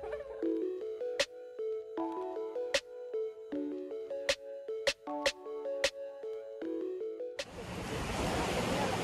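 Sea waves wash onto a Mallorca beach as a steady broadband surf hiss, arriving in the last couple of seconds after a stretch of plinking music.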